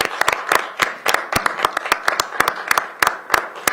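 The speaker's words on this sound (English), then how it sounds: "Let's give them a round of applause" A small audience applauds at a county council meeting, giving a sparse round of distinct, sharp claps from a few people in an irregular rhythm, fairly close and unaccompanied by speech.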